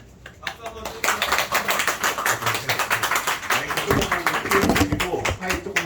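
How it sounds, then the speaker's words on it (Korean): Youth congregation at a Korean church's middle and high school worship service claps for an associate pastor, a dense run of close, loud hand claps that swells after the first second and continues steadily. "박수 한번"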